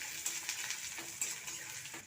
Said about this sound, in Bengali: তেলটা গরম হয়ে গেছে, এরপরে দিয়ে দেবো 5 ফোড়ন, কাঁচা লঙ্কা, কুচনো পেঁয়াজ কুচিটাকে একটু ভেজে নেব